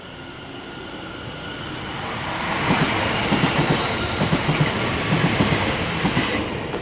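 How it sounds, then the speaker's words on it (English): A Class 710 London Overground electric train departs South Hampstead station, its rumble building as the wheels begin a rhythmic clickety-clack over the rail joints, fairly close and steady with no voices. "This is 710376 departing, going to Wilson Junction from Euston."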